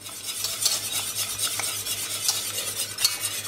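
Beef tongue broth in a pot being stirred as it comes back to the boil with a reduction added, giving a soft hissing simmer with scraping strokes and light clinks of a utensil. The sound is close and steady, with no voices.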